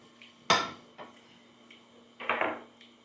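Fork and knife cut into fried beef steak on a plate, giving a few sharp clinks and scrapes of metal on ceramic, one loud near clatter followed by a cluster of scraping cuts.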